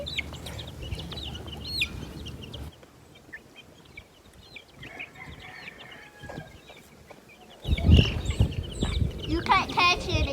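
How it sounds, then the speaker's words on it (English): Heritage breed chickens cluck and chatter in a backyard flock, with repeated close calls and a louder burst of clucking near the end, while people talk nearby. "That's one of our heritage breed birds."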